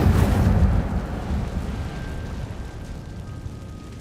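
An Incendio fire spell cast in the video game Hogwarts Legacy erupts as a loud, rushing fiery blast. It then settles into a sustained roaring rumble that slowly fades, with no voices over it.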